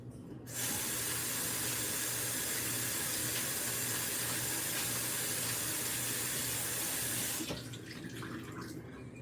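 Tap water runs in a steady, soft hiss for about seven seconds while something is rinsed off, then the flow is shut off.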